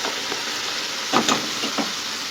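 Chicken fries with garlic and bell pepper in a pan, a steady sizzle broken by a few scraping stirs of a spoon around the middle, close and clear with no voices.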